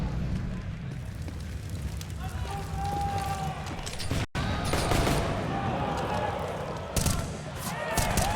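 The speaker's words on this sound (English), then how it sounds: "Shots coming out." Gunfire on the Inferno map in Counter-Strike during a pro tournament match, sharp shots and short bursts scattered across the clip beneath a commentator's steady talk.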